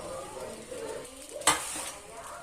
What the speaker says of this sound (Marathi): खिचडीला थोडंसं हलवून घ्यायचं.